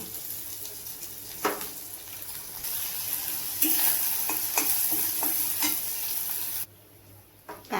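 Cumin, curry leaves, garlic and onion sizzle and fry in a pan for a homestyle bhindi dish, with steady crackling broken by sharp stirring clatters, then a sudden drop near the end.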